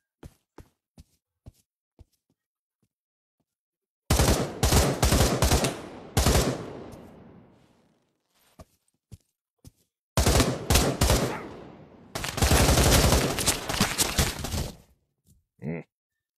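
Video game gunfire in a Pavlov deathmatch on the Shack map: scattered single shots, then loud sustained automatic bursts with echoing tails, separated by quiet gaps and sparse clicks, and a short final burst.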